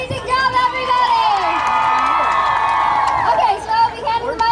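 Outdoors at a gun violence protest in Union Square, a crowd cheers and whoops for kids, with high shouting voices rising over steady hubbub before settling back into chatter.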